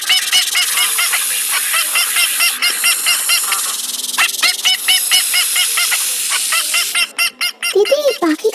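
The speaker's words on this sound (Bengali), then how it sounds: "এটা তো একটা হাসির ডাক, আমি অনেকক্ষণ ধরে শুনতে পাচ্ছি" A bird honks and quacks repeatedly in a forest, loud, close calls in quick bursts with short gaps, rising sharply near the end.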